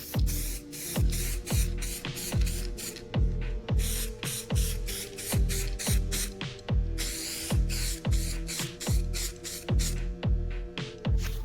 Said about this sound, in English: I need to just do a quick spray on this door here, make that black